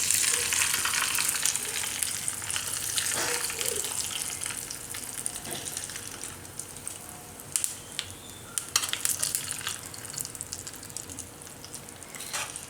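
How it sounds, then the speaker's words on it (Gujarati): Hot tempering of sesame seeds, curry leaves and asafoetida crackles and sizzles over steamed Gujarati chana muthiya, starting loud and settling into a fizzing hiss with scattered pops and sputters. "આ વઘાર આપણે આની ઉપર નાખીશું"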